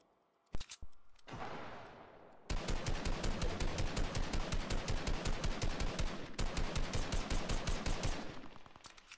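Rapid automatic gunfire in the video game Fortnite, opening with a couple of sharp single shots and then long, loud, even bursts of fire, with a brief break in the middle and no talk.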